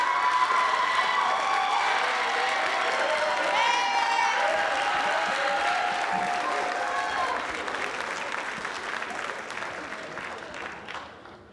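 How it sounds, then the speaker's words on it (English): A school-district convocation crowd claps and cheers, with sustained applause and some whoops and shouts rising above it, then gradually fading near the end. "So let's give Mr. Gathers a round of applause."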